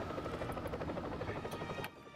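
A helicopter in the Lego Batman video game on Xbox 360, a steady rotor drone holding through the clip with no talk over it.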